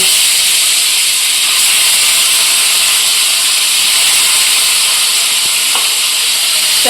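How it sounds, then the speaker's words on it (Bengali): Fish fry in hot oil in a wok with a steady, loud sizzling hiss that runs throughout, and no talk. "এবার আমি একটা একটা করে মাছগুলোকে এর মধ্যে ভেজে নেব।"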